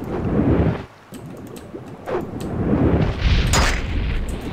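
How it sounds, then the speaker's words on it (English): Morrowind underwater fire spell explosions: muffled, deep booming bursts that repeat in heavy, rumbling waves, with a short dip between them. "Underwater fire spells."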